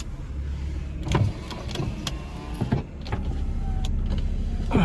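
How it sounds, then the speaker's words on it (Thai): A Toyota car's power windows are run one after another, giving a steady motor whine with faint clunks as each glass stops. The setting is a used manual-gearbox Toyota being shown for sale, and no one speaks. "มาลองกระจกสี่บานนะฮะ"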